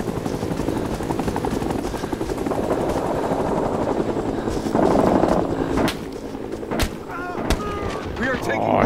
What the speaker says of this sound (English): This one's a chopper.